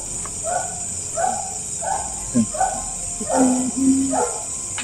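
A dog barks in a short series of yelps from some distance, heard against a constant high insect-like hiss in a quiet outdoor setting at night.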